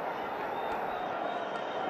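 Big stadium crowd roaring and cheering at an India versus Pakistan one-day international cricket match, a dense sustained wall of sound held at steady loudness throughout, with no clear voices standing out.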